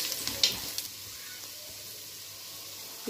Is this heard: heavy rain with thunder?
no